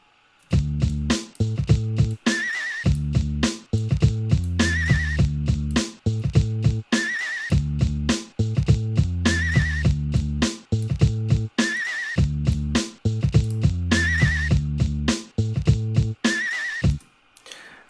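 A horse neigh sample repeats as a stuttering, chopped whinny over a looped, rhythmic beat in an FL Studio production styled after Cypress Hill, loud and continuous, with no voices.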